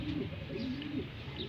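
A racing pigeon in Bataan gives a brief, low, soft coo close by against a quiet, steady background.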